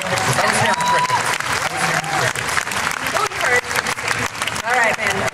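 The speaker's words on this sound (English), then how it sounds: "Round of applause for everybody in that category." Audience applause at a cosplay contest at Walker Stalker Germany, a sustained crowd clapping with cheers and a host's voice speaking over it.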